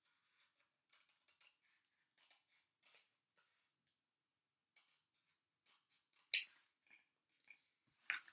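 Scissors snip out a paper stencil for a flower craft, a series of quiet, close, irregular cutting clicks with short pauses between them.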